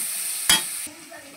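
A splash of water hits a cooking spice masala in a hot pan, setting off a sudden sharp hiss that flares for a moment and then quickly dies back to a quieter simmer.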